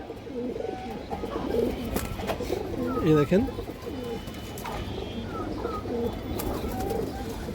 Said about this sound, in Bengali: চুইঠাল বা জুটিয়ালা একটা মাদি কবুতর